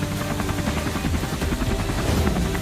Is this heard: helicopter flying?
yes